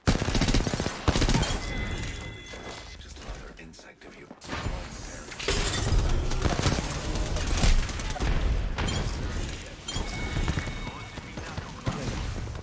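Loud rapid gunfire rings out in a fast-paced online shooter video game, with repeated bursts and fusillades throughout and a brief lull near the middle. Excited player voices can be heard.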